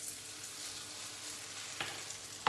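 Grated potato pancakes frying in hot oil in a pan give a dense, steady sizzle and crackle, with a couple of sharper spits or stirring scrapes near the end, close and moderately loud.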